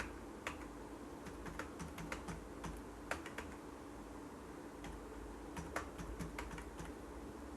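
Quiet keyboard typing enters marks into a Microsoft Word table, irregular soft key clicks in short bursts and pauses against a faint room hum.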